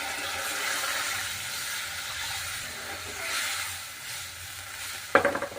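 Mustard paste sizzles softly in a pan with a low, continuous hiss, then a sharp, brief burst of crackling as water hits the hot paste near the end.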